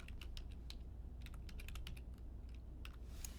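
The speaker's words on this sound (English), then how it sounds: "So let's type expenses." Quiet keystrokes on a computer keyboard in irregular clusters of taps, faint and close over a low steady hum, as a word is entered into a spreadsheet.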